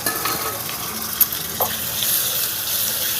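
Tomatoes go into a pan of chicken masala frying with ginger-garlic paste on a small village stove, giving a steady moderate sizzle with light stirring scrapes and a couple of brief clinks.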